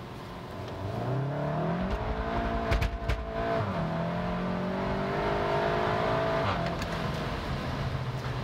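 A Cupra car revs and accelerates in rain, its engine note climbing and falling through several gear changes in a continuous loud whine and roar, with no voices over it.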